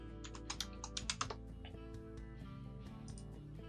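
Typing on a computer keyboard while searching for Google Fonts, heard as a quick run of close, crisp keystroke clicks early on, then a few more taps, over a steady layer of background music.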